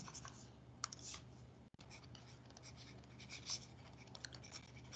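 A lecturer writes on a board during a physics class on vectors, producing faint, scattered taps and scratches in a quiet room with a low steady hum beneath.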